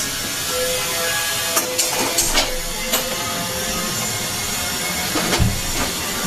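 A kitchen gas stove burner lit and hissing, a loud, steady close hiss broken by a few soft clicks and knocks from handling on the cooktop.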